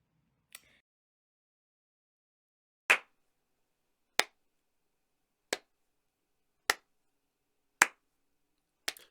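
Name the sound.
slow clapping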